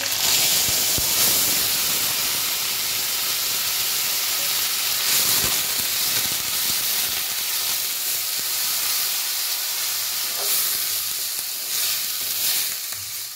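Grated radish dropped into a hot pan with nigella seeds and green chilies gives off a loud, continuous hissing sizzle with steam, and a few faint stirring knocks punctuate it.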